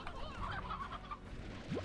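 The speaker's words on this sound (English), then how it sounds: "We're like cloning and murdering this rooster over and over." A rooster in the Slime Rancher video game clucks in a quick, continuous run of throaty calls, fairly close and clear throughout, ending with a short rising squawk.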